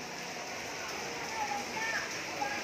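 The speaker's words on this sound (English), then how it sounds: "The rain. When I get here, it's raining also." Steady rain falls at an outdoor market in Olongapo City, Philippines, a constant soft hiss of drops on surfaces, even and moderately quiet throughout with no clear voices.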